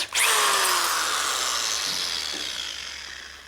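A power drill whirs loudly at high speed drilling a pilot hole during a 1967 Harley-Davidson shovelhead motor rebuild, its pitch and volume slowly fading over a few seconds as it bores through.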